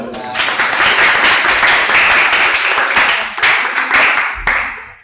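A classroom of students applauds after a group presentation, a loud, fairly close clatter of many hands clapping steadily for a few seconds before tapering off, with some voices mixed in.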